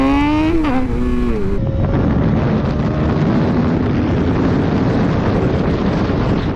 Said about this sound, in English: if I'm in like a real low gear and I just gas it like this